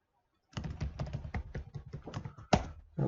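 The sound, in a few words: typing a user ID on a computer keyboard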